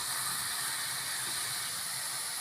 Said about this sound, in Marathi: हे 5 मिनिटं तुपामध्ये चांगलं परतून घ्यायचंय हे